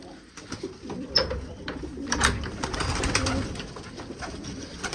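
Pigeons coo repeatedly at close range, soft throaty calls running continuously over a low rumble of background noise.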